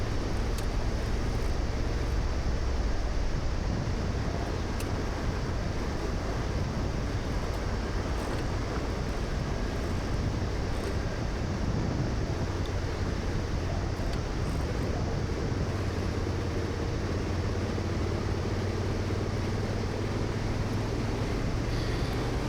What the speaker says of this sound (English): The other thing you might hear is the bike really lugging